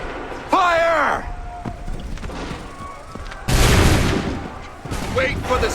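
Musket volley fire in Assassin's Creed 3, booming crashes of gunfire, one broad burst midway and another near the end, with a shouted in-game voice near the start and faint background battle noise.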